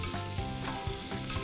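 Garlic fries in hot oil for a rasam tempering, a dense continuous sizzle and crackle with quick stirring pulses, close and steady throughout.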